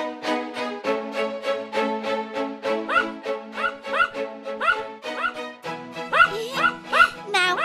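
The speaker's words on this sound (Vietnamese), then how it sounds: "em có thể bảo con cúng ngừng sủa không ồn ào quá" Cartoon dog from an animated Vietnamese fairy tale yipping and bow-wowing in a quick repeated series over background music, with whimpery yelps near the end.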